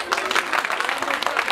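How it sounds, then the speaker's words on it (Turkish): Audience clapping at an outdoor cherry festival stage show, a dense steady round of applause lasting throughout with no other sounds breaking through. "Hani kocaman alkış?"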